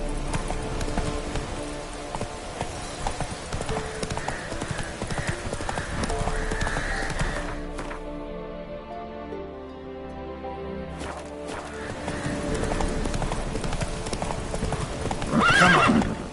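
A horse gallops in The Witcher 3 on PS5 with rapid, close clip-clopping hooves. The hoofbeats drop out briefly midway, then resume, and a loud whinny comes near the end.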